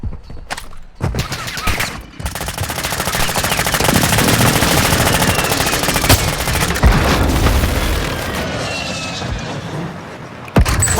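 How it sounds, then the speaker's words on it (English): Dense automatic gunfire and heavy explosions from an airstrike roar in the mobile battle royale game Warzone Mobile, a loud continuous barrage with booming impacts and sharp cracks throughout. "Hostile airstrike incoming."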